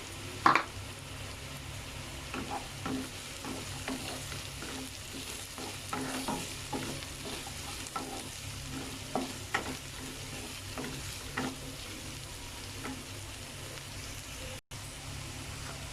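Chopped capsicum stir-fried in a pan for a masala pasta dish, with a steady sizzle and repeated scraping stirs at an uneven rhythm, close and clear, with no talking.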